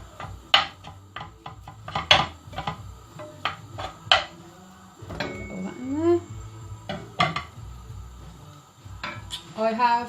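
Ground meat is broken up and browned in a pan. A utensil clacks and scrapes against the cookware in irregular bursts, close by, with a quiet sizzle underneath and brief voice-like sounds mixed in.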